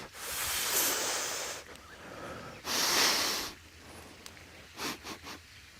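A deep, full breath drawn in during a yoga flow, with two long broad airy swells of inhaling followed by a few short softer puffs of breath, close and fairly quiet with no talking.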